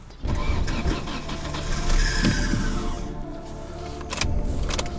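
A VAZ-21099 car engine with a gas system cranks in winter and catches, revving up loudly then settling into a rough idle, with another brief rev near the end.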